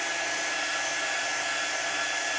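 A hair dryer blows steadily on chalk paste applied to a Valentine craft piece, giving a loud, constant, close whoosh with no breaks and no talking.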